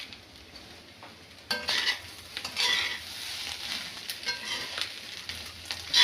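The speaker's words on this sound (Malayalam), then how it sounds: "സൗണ്ട് കേൾക്കുന്നതായിട്ട് ഇങ്ങനെ പൊട്ടുന്ന പോലുള്ള സൗണ്ട് വരും" Clam roast in Kuttanad style with curry leaves and fried coconut slivers added bursts into a sudden crackling sizzle, then keeps frying with stirring scrapes close by.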